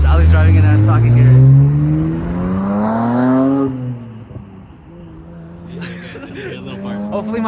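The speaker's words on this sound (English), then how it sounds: "Hopefully my flybys work." A BMW 335i with an MHD and JB4 burble tune accelerates hard in a loud nearby flyby, its engine pitch climbing before cutting off, then fading away with brief crackles.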